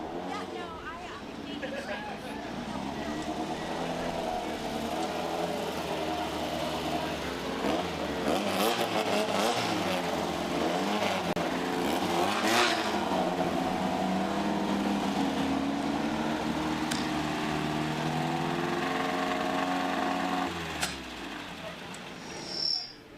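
Limited 1600 desert buggies at a Great American Short Course race roll up toward the podium, their engines revving and droning for a long stretch under a commentator's voice, with some engine swells before a sudden drop near the end.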